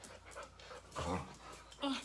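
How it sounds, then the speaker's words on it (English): A visiting female dog pants in short, quick breathy bursts close by, with a slightly louder burst near the end, against faint background room noise. "This is my mom's dog, Annie"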